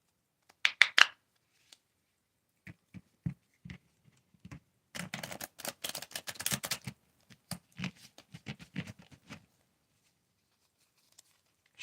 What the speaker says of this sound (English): we'll shuffle and see how it shuffles.